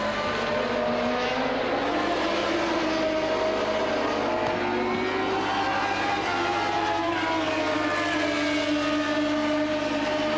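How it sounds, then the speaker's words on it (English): Alan Jones's 1981 Formula 1 car accelerates out of the right-hand Opel curve at the German Grand Prix, its loud engine note sustained and slowly climbing in pitch without a break. "let's listen again to his engine notes as he comes out of the right hand of the Opel curve"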